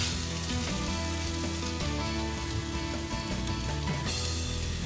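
Venison sears in a hot, oiled cast iron skillet, giving a steady, loud, crackling sizzle that fills the whole stretch without letup, close up and with no talking.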